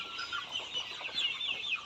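Broiler chickens about 48 days old on a poultry farm cluck and chatter as a dense flock, a steady overlapping murmur of calls with no voices on top.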